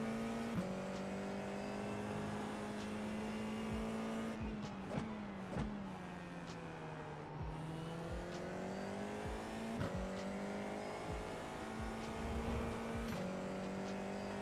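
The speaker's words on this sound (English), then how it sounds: "Let's do some sim racing." Race car in the iRacing sim racing game droning at a steady pitch, with repeated sharp clicks and gear-shift dips as it pulls along, heard alone with no talking.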